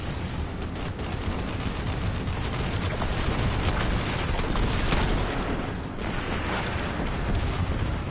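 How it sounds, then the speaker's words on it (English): Pulse rifle fire in Destiny 2, a dense, continuous barrage of loud shots and impacts with booming explosions in the mix, filling the whole stretch with no pause. "you guys see why I really like this pulse rifle?"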